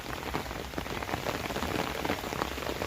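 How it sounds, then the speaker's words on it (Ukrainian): Heavy rain patters steadily on an umbrella and drips off it in a village yard, a dense, continuous, close shower with no pauses. "Я під зонтиком, капає з зонтика."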